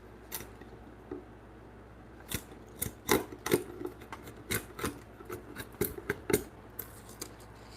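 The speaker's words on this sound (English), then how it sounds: "I gotta be careful with this framing chisel because I will take too much out on accident." A framing chisel cuts into timber for frame joinery at a woodworking bench, giving a run of sharp, irregular close-up taps and scraping bites with brief quiet gaps between them.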